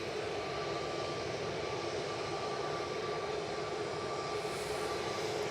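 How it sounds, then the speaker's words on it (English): A KLM Boeing 737-700 from Amsterdam at Manchester Airport gives off a constant, fairly faint jet rumble with a steady tonal hum layered over it, unchanging across the few seconds and free of talk. "Here's the 737-700."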